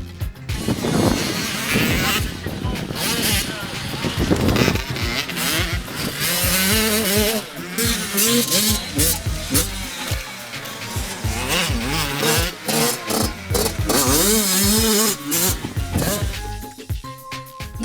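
Radio-controlled model motocross bikes racing on a championship circuit in Guadeloupe, a busy stream of high buzzing motors rising and falling as they pass, with snarling revs layered over one another throughout.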